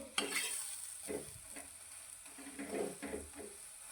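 Moong dal chilla roasting on an oiled griddle, a faint, even sizzle under occasional soft scrapes and taps of a spatula, close and quiet.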